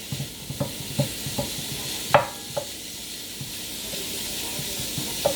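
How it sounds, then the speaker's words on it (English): Lamb mince sizzles in a pan while a wooden spoon stirs it, a soft continuous fry under irregular knocks and scrapes of the spoon, one sharper clack near the middle, close and moderately quiet with no talk. "So the mince has started to sizzle, so we're going to use this wooden spoon and get the mince cooking."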